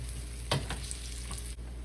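Bean patties frying in an oiled pan give a steady close hiss and crackle of hot oil, with one brief sharper sputter partway through and no talking.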